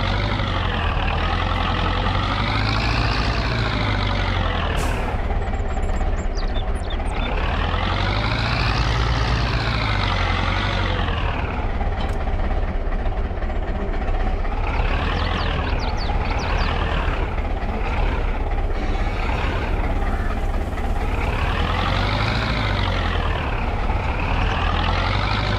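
A tractor engine in Farming Simulator 22 runs continuously with a deep, loud drone, its pitch rising and falling in repeated slow swells as the throttle changes, without any talk.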